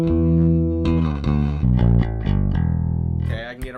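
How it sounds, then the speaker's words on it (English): Bright-strung electric bass played solo, sustained low notes shifting through a short melodic run with steady attack, close and clear with no talking. "Let's just listen to the tone of the bass by itself."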